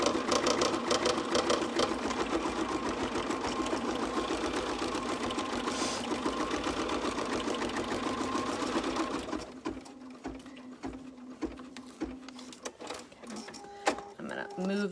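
An embroidery machine stitches an applique onto paper in a fast, steady mechanical whir of rapid needle strokes, close by, then stops and leaves clicks and handling noises, with speech heard over it.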